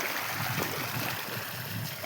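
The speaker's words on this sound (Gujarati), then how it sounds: "આપણે પાણી વાળી દીધું એમાં" Irrigation water flows steadily into a channel in a farm field, a continuous close trickling and rushing with a broad watery hiss that holds even throughout, with no voices.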